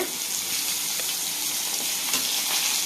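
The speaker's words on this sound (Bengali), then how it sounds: "একদম লাল লাল করে ভেজে নেবো মাছগুলোকে।" Fish fry in a hot pan with a steady, dense sizzle and crackle of oil, close and continuous throughout, with no voices.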